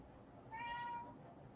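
A single faint, drawn-out cat meow rises for about half a second over quiet room noise, somewhat distant and unaccompanied by talk.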